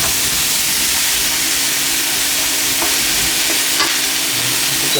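Lamb pieces stir frying in a hot pan for a Cantonese lamb curry, giving a steady loud sizzle with scraping stir strokes throughout and no talking.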